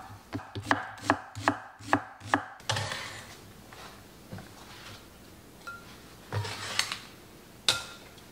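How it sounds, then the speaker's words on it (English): Knife chopping a small red onion finely on a cutting board, a quick run of about nine sharp close taps, then scattered softer cuts and scraping. "Now I have a little red onion. I'm gonna cut this really, really finely."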